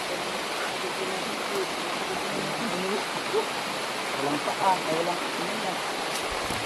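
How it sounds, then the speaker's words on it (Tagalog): Dense, roaring downpour of heavy rain fills the space continuously, with faint voices and scattered bird-like chirps barely audible beneath it. "Napakalakas na ng ulan."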